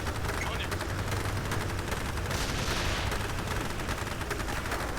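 Rapid bursts of gunfire from military units in the real-time strategy game Forged Battalion crackle steadily throughout, mixed with game effects and a voice talking over the action.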